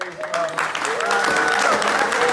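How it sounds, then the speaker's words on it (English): Audience applause at the Chiswick Book Festival 2021, a brief burst of steady clapping from a seated crowd with a voice heard faintly over it. "So a huge round of applause, please, for James"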